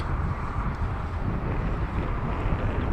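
Strong gusty wind buffeting the microphone at a park during a DJI Mavic Mini drone flight, a dense continuous roar without talk.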